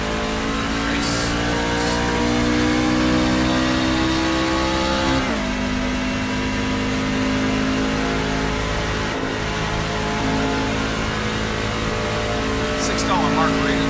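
NASCAR Truck Series truck at Kansas Speedway in a racing video game, its engine droning steadily near the 8,000 RPM shift point, dipping briefly around a gear change, with a person talking over it throughout.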